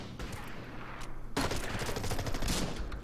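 Gunfire in the World War II strategy game Order of Battle: US Marines on Bougainville, a sudden loud burst of overlapping rifle and machine-gun fire that erupts after a quieter stretch and keeps rattling.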